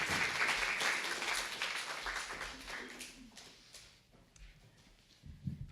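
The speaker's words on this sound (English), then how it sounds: "A round of applause." Audience applause at a reading event at Montgomery College: a dense patter of clapping that is fullest for the first three seconds, then thins and fades into quiet room noise.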